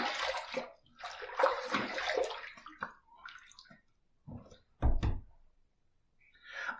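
A razor is rinsed under a running tap in bursts of splashing water, with a couple of knocks against the sink and quiet gaps between the rinses.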